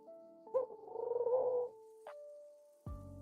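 A pet bird vocalizing right beside a microphone: a close, buzzing, purr-like trill lasting about a second, then a short sharp chirp and a low steady hum.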